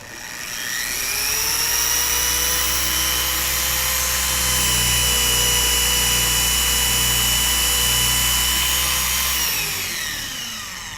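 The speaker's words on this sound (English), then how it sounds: "I'm going to leave the machine on with no pressure, speed setting 6 on the paintwork" A car polishing machine whirs continuously on paintwork at speed setting 6 with no pressure, a steady high-pitched drone, close and loud, spinning up at the start and winding down near the end.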